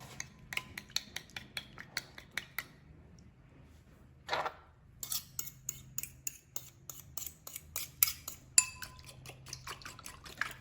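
Almond bread ingredients are stirred together with honey in a bowl, giving sharp rapid clicks and scrapes of a utensil. A run of quick taps comes first, then a short gap and a brief wet smear, then faster clattering mixing, close and fairly quiet.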